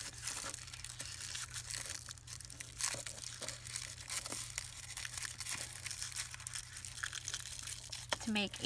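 Close, continuous crinkling and crunching of paper being scrunched by hand into a flower for a junk journal cluster, with irregular crackly bursts and a brief sharper rustle near the end.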